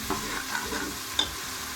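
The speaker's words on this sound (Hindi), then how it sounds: "प्याज गोल्डन करके हमने ये इसके अंदर टमाटर डाल दिए" Tomatoes frying in a pan with golden-browned onions and chilli, a steady soft sizzle with faint stirring scrapes and a brief sharper clink near the end; no voices.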